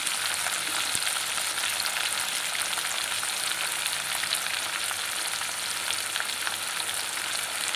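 Fennel seeds sautéing in a pan for a prawn, drumstick and jackfruit seed curry, a dense, even hiss of frying that runs unbroken throughout, close and steady.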